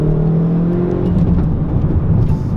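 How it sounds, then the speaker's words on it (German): A Hyundai i30 N Performance exhaust in its louder mode after the exhaust button is pressed, a steady deep engine drone with a rougher, burbling edge, close and loud with no talking. "Jetzt drücken wir mal diesen Knopf und dann hört sich der Auspuff so an."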